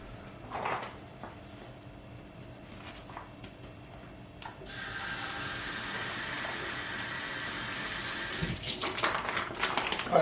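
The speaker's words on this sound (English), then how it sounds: "I usually wash my meat" Raw beef washed under a running kitchen tap: quiet handling noises at first, then a steady, fairly loud hiss of pouring water that lasts several seconds, with a clunk near the end.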